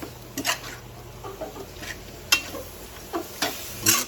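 Food is stirred and fried in a pan while cooking chicken feet adobo and fried tuna, with soft scattered scrapes and brief sizzling bursts close by, quiet and intermittent with no talking.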